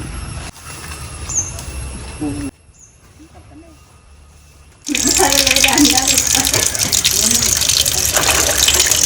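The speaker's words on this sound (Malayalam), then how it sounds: "അപ്പോൾ നമുക്ക് ആദ്യം ചതയ്ക്കുന്നതിന് മുമ്പൊന്ന് കഴുകാം" Tap water gushes loudly and steadily over vegetables being washed in a kitchen sink for a thoran, starting abruptly after a quieter stretch with some speech and clatter.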